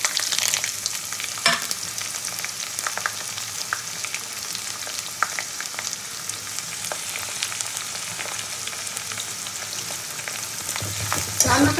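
Chopped onion sizzles in hot oil with whole garam masala, cumin and bay leaf, giving a steady close frying hiss with occasional stirring scrapes and crackles throughout, and no voices.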